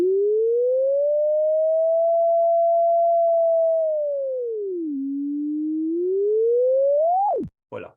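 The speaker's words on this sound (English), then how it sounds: "would have a simple sine wave in the cycle, and it would make a sort of instant crescendo, stay loud a little bit, then go down" A simple synthesized sine tone swells quickly, holds loud while gliding up and down in pitch, dips, rises again and then cuts off abruptly, heard alone with no voices.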